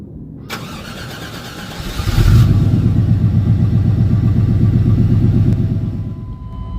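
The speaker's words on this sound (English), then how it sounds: "It was enough to get it started, so I'm gonna let it idle for a while." Truck engine with a nearly dead battery cranking briefly after a click, then catching and settling into a loud, close, steady idle with an even rumbling pulse.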